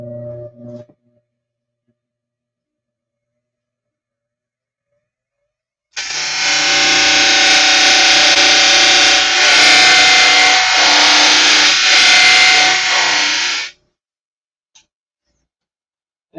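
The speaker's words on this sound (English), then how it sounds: "Let me sand this straight real quick." A power sander works wood on a model airplane build, a loud, steady whirring buzz running for about eight seconds, close up, then cutting off into silence.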